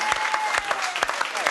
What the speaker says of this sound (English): So, round of applause to Oyster for doing that.